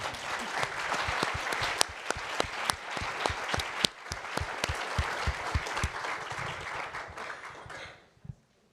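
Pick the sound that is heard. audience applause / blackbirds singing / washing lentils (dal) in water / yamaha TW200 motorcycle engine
audience applause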